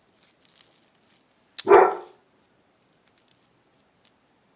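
A single dog bark, loud and fairly close, at wheelie bins, breaking an otherwise quiet stretch with a few faint clicks and ticks around it.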